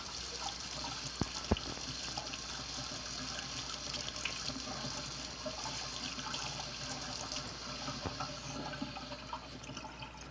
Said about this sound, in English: Wash the jar thoroughly before you open it.